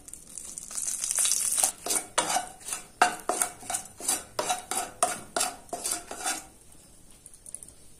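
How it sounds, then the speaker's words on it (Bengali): A metal spoon scrapes and clatters rhythmically in a pan as bay leaf and dried red chillies fry in oil for a banana-flower curry, close-up strokes with a faint sizzle that settles near the end. "এটা একটু নাড়াচাড়া করে নেব যাতে লালচে লালচে হয়ে যায়"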